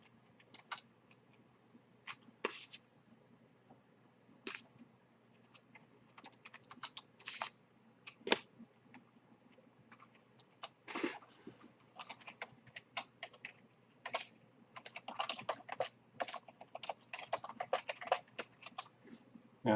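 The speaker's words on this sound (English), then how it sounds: "put in the card number manually" A credit card number is keyed in by hand on a computer keyboard, with sparse clicks early on that build into quicker bursts of close, crisp keystrokes toward the end.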